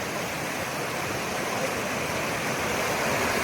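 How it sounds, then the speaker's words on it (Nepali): Rungdung river near Naya Busty, Badamtam, rushing steadily in a broad, even hiss of flowing water, close and continuous, with no voices. "यो रुङदुङ खोला।"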